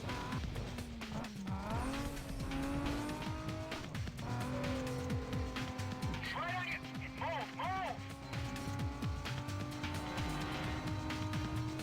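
A race car in Need For Speed: Carbon on the GameCube, its engine droning steadily and loud throughout with rising and falling pitch. Short tire squeals come around the middle, and a voice talks over it.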